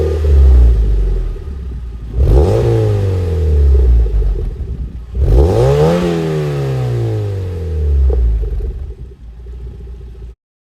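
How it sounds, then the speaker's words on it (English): Modified car fitted with a Goodwin Racing Super Q exhaust, heard from outside: loud, close engine revving in two strong rising sweeps, settling into a steady rumbling drone between them, then cutting off abruptly at the end. "mine is modified with a Goodwin Racing Super Q, and this is what it sounds like outside of the car"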